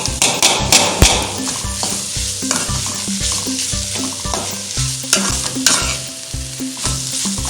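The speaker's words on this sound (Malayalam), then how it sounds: "നമ്മുടെ കോളിഫ്ലവർ സ്റ്റിർ ഫ്രൈ ഇവിടെ റെഡി ആയിക്കൊണ്ടിരിക്കുകയാണ്." Cauliflower stir fry sizzling loudly in a pan, with repeated scraping and clanking as it is stirred, close and steady over several seconds, no voices.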